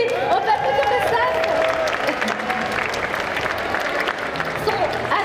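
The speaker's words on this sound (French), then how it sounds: "On peut applaudir le staff." An audience at a convention video competition applauds the staff in a full, continuous burst of clapping with faint crowd murmur and a voice beneath it.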